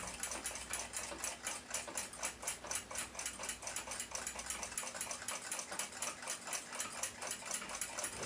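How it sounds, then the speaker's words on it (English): A steady, fast rhythmic grinding buzz from a tool working down a rivet on a clock mainspring during repair of a Sandoz desk clock, loud and close, running continuously without talk. "Grind the rivet down to help get the old piece of mainspring off."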